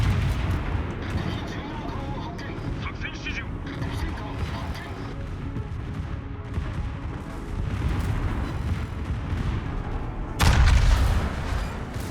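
A battleship's rear turret fires in World of Warships as a rumbling naval battle plays under a talking voice, with a heavy boom near the end cutting through the low gunfire roar.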